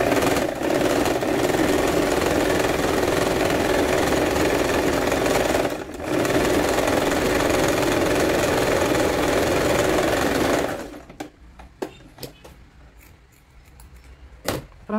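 A sewing machine stitches a small witch hat for a Blythe doll, a loud, steady close mechanical whir for about ten seconds with a brief pause, then stopping into faint handling clicks.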